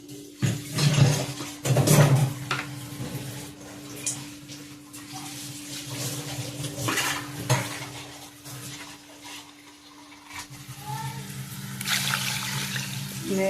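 Tomato-boiled water poured into a pot for rasam, a steady watery splashing that swells and eases over the stretch, with faint clinks of cookware in the background.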